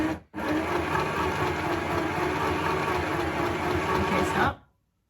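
A KPCB Tech beginner sewing machine runs steadily while stitching fabric, a continuous close motor whir with rapid needle clatter for about four seconds, starting after a brief pause and stopping abruptly.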